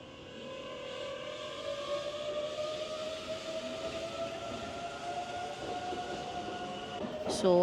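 A train running through Kyoto gives a steady rolling rumble with sustained tonal whine layered over it, close and continuous throughout, then a brief sharp high squeal near the end.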